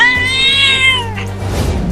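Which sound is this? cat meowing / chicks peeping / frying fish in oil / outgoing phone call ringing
cat meowing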